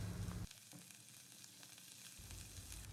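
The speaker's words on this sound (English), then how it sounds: "now we will stir them for few seconds along with the prawns and onions." Broccoli stir-frying with prawns and onions in a pan for a garlic chili stir fry, with a soft continuous sizzle and a few quick scraping stirs, close but quiet, no talking.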